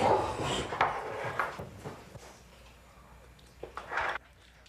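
Dogs give a few short, faint barks and whimpers in a domestic setting, scattered in quick bursts with quiet gaps between them and a little background noise.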